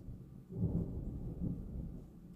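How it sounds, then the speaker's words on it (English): Thunder from an approaching storm after light rain rolls in as a low, muffled rumble, swelling twice and fading, heard from a distance with no talk. "It's thunder. It sprinkled some this morning, and looks like we're gonna get a storm in."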